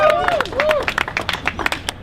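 A street crowd at a faith-day climate rally cheers and claps in a burst of scattered hand claps and shouts. Whistle-like voices rise above the clapping, which continues unevenly.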